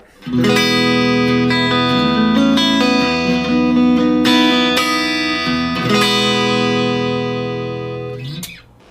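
Bright clean electric guitar comes through a Blackstar ID Core amp, played dry. Ringing chords sustain and decay loud and up front, with no voices over them.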